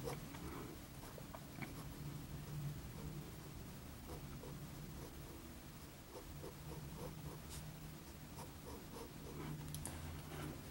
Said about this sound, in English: I'm drawing a part at a time.